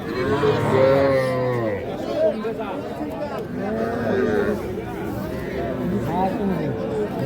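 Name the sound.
calf mooing at cattle market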